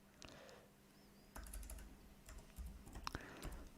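Keys clack on a computer keyboard as a pip install command is entered, quiet and close, in uneven bursts of rapid keystrokes with short pauses.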